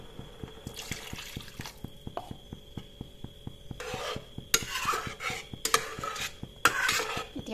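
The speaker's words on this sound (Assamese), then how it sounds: "আৰু অলপ পানী দিম।" Water is added to a pot of meat and potato curry in a few splashing bursts with light clinks of metal, over a quiet backdrop of regular soft ticking.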